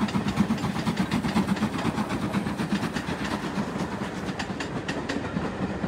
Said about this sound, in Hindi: ये ट्रेन फिर से आ गई।